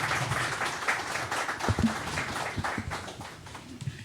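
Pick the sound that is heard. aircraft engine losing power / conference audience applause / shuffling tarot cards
conference audience applause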